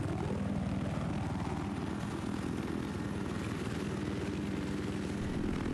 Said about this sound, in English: As you can see, Scout Chopper is pretty easy to handle